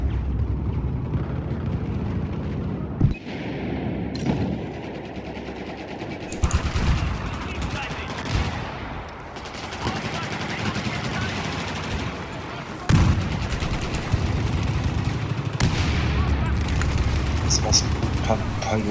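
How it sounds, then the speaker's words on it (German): Dense, continuous rapid gunfire and booming blasts from Battlefield 4 multiplayer, loud and relentless, with a voice talking over the barrage. "Ist das ein Geballer"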